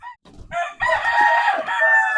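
An Asil rooster crows once, loud and close, a harsh drawn-out call after a few short clucking notes.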